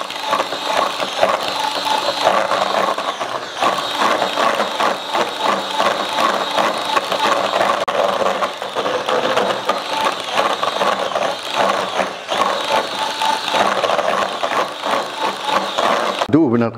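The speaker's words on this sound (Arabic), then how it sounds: "غادي نخدمو طراب الكهربائي" An electric mixer beats tiramisu cream in a loud, steady mechanical whir with a rattling, ratchet-like texture that runs continuously and up close.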